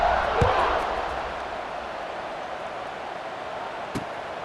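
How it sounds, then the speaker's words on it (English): A stadium crowd in EA Sports College Football 26 buzzes as a steady, broad murmur with an occasional thud, while a commentator talks over it. "this crowd is buzzing after that last score"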